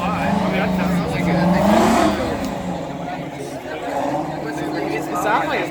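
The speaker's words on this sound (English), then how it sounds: "It sounds like it's revving really high." A Big Bud tractor engine revs high, its rising and falling roar partly masked by people talking close by throughout.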